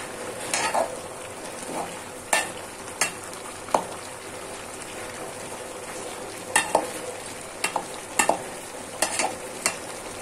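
Dried fish frying in a pan is stirred, with a low steady sizzle under scattered spatula scrapes and knocks, sparse at first, then clustered toward the end, with no talking.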